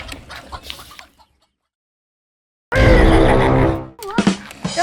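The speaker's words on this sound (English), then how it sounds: "We have chickens. 18 of them." Chickens on a farm cluck and squawk up close, loud bursts separated by a silent gap, with one long drawn-out call in the middle.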